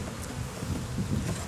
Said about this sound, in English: Set it inside the box, Alyssa, so you don't accidentally kick the bees while we're walking around here.